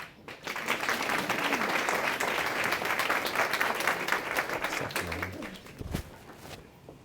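A luncheon audience breaks into sustained applause to welcome a speaker, with dense, steady clapping that holds for several seconds before tapering off near the end.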